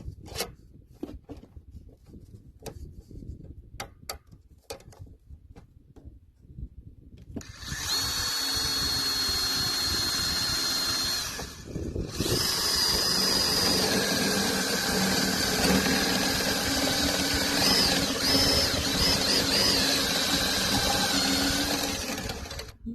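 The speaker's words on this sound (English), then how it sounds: "we're going to drill a hole through that" A handheld power drill bores through aluminum on a DIY portable solar suitcase, a few light taps and handling clicks, then a loud sustained whine that pauses briefly and resumes, near and steady.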